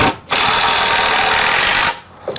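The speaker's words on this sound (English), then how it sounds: "Go ahead and drill it in." A power drill drives a screw into a raised garden bed board: a short, loud, steady whir lasting under two seconds, with brief quiet before and after.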